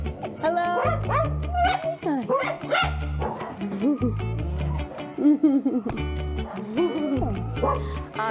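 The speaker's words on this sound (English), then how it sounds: "I see tons of dogs." Several dogs at a dog rescue charity in Ella, Sri Lanka bark and yip excitedly in bursts over the whole stretch, close and loud, while people talk and greet them at the same time.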